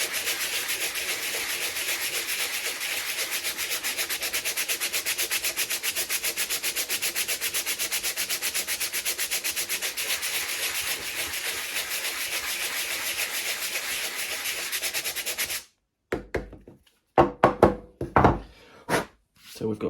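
Hand-sanding a part of a Dalek build to smooth it down: a long, continuous, close raspy back-and-forth scrubbing that stops abruptly, followed by a few scattered knocks and handling noises.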